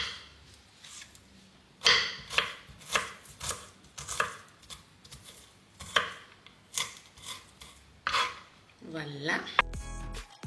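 A knife chops a shallot on a board in a series of crisp, close knocks at a fairly regular pace, with a brief voice near the end.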